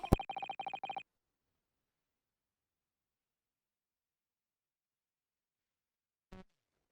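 Incoming-call phone ring from The Great Ace Attorney Chronicles, one loud trilling burst of rapid pulses lasting about a second, then silence and a brief click-like sound near the end.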